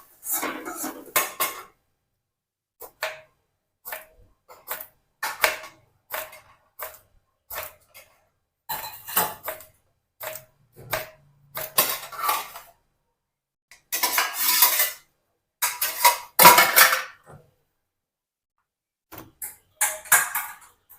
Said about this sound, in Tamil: இதை மெலிசாக ரவுண்டாக கட் பண்ணிக்கலாம்.